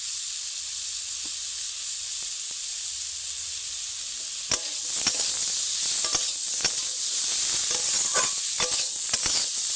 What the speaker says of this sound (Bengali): হালকা আঁচে গুঁড়ো মশলা দেওয়ার পর বেশ কিছু সময় নাড়তে হবে